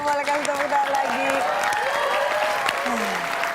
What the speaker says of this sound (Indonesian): Oke, boleh kasih tepuk tangan lagi